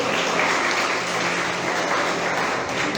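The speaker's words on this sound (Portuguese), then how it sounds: "Uma salva de palmas para Marcelo aqui" A church congregation claps during a sermon, producing a thick, continuous roar of applause that stays loud and unbroken from start to finish.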